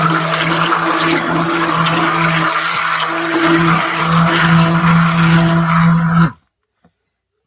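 A stick blender whirs steadily while mixing additives into a batch of strawberry-scented cold process soap, a loud continuous motor drone that cuts off abruptly near the end, leaving silence.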